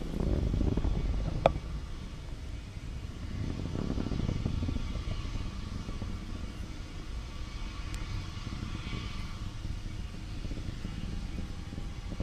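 A rocket launch vehicle thunders through max Q, a steady low, broad rumble that stays distant and fairly even, with a brief crackle early on.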